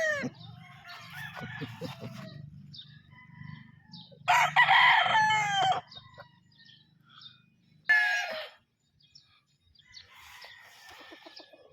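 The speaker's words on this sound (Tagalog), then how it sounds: "May manok busing oh, nagsayaw-sayaw oh" Gamefowl roosters crow in loud, drawn-out calls, two standing out clearly, with softer clucking and bird sounds between them.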